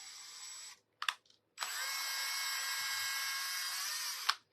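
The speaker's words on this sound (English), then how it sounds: "let me just drill it right here." A power drill whirs in a steady high-pitched run, stops, gives a brief burst, then drills continuously for about three seconds before winding down.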